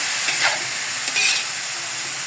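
Garlic and pork liver sautéing in a hot pan give a steady, close hiss and sizzle with faint stirring scrapes, continuous throughout with no talking.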